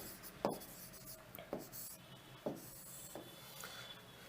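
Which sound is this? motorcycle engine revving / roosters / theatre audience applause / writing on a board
writing on a board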